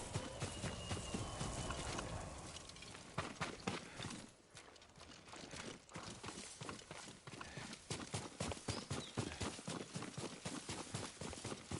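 Steady clip-clop of horse hooves in the video game Ghost of Tsushima, a fast continuous rhythm of sharp knocks, close and fairly loud, with a brief pause partway through before the beat resumes.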